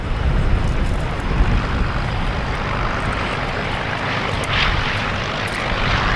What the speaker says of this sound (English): what a great pleasure it is to see that aircraft that's just rolling down the runway at the moment